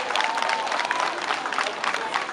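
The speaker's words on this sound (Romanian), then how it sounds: "să aplaudăm pentru ei." Audience applause at a Romanian Language Day celebration in Costești, a steady dense patter of many hands clapping, with a crowd murmuring underneath and no clear speech.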